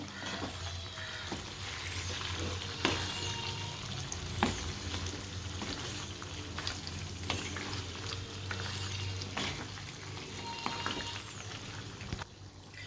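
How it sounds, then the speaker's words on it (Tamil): A paste of fried onion and green chili is stirred in a pan of spicy Saoji chicken gravy, with continuous bubbling and sizzling plus scattered scrapes and taps of the spoon throughout. "இப்போ நம்ம வதக்கி அரைச்சி வச்சுருக்கிற வெங்காயம் பச்சை மிளகா அந்த பேஸ்ட்டு இதில் சேர்த்துருவோம் இதை நல்லா மிக்ஸ் பண்ணி விட்டுருவோம்"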